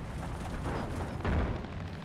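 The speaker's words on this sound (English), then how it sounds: "I heard an explosion" A deep rumbling explosion booms in Far Cry 5, a sustained low blast that swells sharply midway through a couple of seconds, with no voices.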